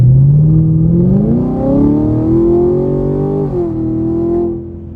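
A Camaro SS with an LT1 engine and aftermarket headers accelerates hard on a dyno, a loud, close engine roar climbing steadily in pitch through the gears and easing off at the end.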